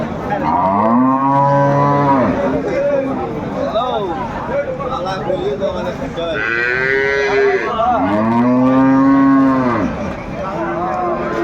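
Dairy cows and calves moo loudly at a rural cattle market, with several long, deep, drawn-out calls close by, one after another, over the background murmur of the crowd.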